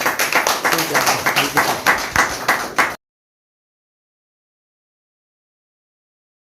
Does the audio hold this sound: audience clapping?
yes